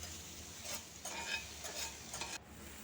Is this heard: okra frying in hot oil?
yes